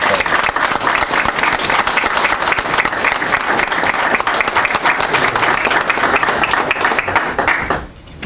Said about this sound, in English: give our fire commissioners a giant round of applause